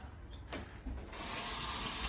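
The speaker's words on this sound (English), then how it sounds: "We have a faucet." Water streams from a newly installed kitchen faucet into a new drain, building from sputters into a steady rushing flow, close and fairly quiet.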